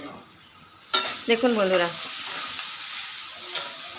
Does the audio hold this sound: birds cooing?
no